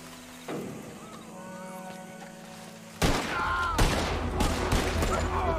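A pistol fired in Red Dead Redemption 2 on the island of Guarma: after a quiet stretch with one sharp report, a dense flurry of close, loud shots erupts in rapid succession.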